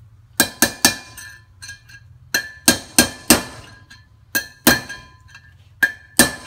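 Hard hammer striking a swivel hub part on a Toyota Land Cruiser HZJ/VDJ 76-79 during a rebuild, a close, metallic clinking series of taps in irregular clusters of two to four, each ringing briefly, with no talk.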